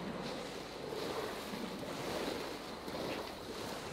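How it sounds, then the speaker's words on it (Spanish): Water gushing out in Star Wars Jedi: Fallen Order, a steady broadband rush and splash like surf or a strong outflow, continuous and fairly loud throughout with no talk. "No sé por qué esto está echando agua."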